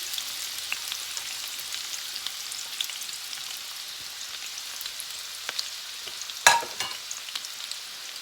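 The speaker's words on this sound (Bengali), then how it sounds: "তো এখন তেলটা গরম হয়ে গেছে এখন আমি এখানে বড় একটা পেঁয়াজ কেটে রেখেছিলাম সেটা দিয়ে দিচ্ছি সাথে কিছু রসুন সেটাও দিয়ে দিলাম" Chopped onion and garlic fry in hot oil with a continuous bright sizzle, joined late by one sharp clatter of a utensil against the pan; no one speaks.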